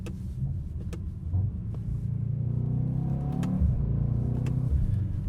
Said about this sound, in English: This MCT AMG transmission also rips off some pretty dang quick shifts.